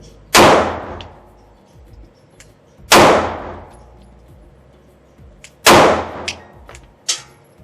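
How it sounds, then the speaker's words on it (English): Three sharp, loud pistol shots from a Canik Mete MC9 compact 9mm, spaced a few seconds apart outdoors, each followed by a quick decaying echo and a faint clink. "I'm gonna go ahead and get to shooting. I'm gonna start with my smallest pistol"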